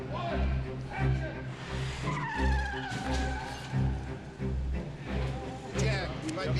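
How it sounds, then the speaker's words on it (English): A car peels out during a staged chase-scene film shoot, its tires squealing and skidding with sharp, wavering whines over revving engine noise. A crowd can be heard talking and shouting throughout. "Got to peel out in the car and all that."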